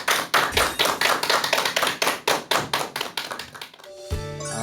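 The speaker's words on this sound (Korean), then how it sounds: "여러분 큰 박수 부탁드립니다" Audience at a university lecture show clapping in a sharp, regular beat, each clap distinct and loud, slowly fading before musical tones take over at the end.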